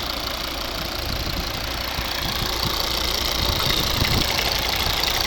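A 2015 Volvo V70 with the 2.4 D5 twin-turbo diesel and automatic gearbox idling, a steady unbroken rumble with a faint knocking clatter, heard close and alone.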